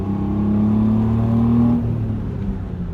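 Steady engine drone of a cheap drift build car cruising in fourth gear, heard from inside the car, a loud low hum that rises slightly, then eases off.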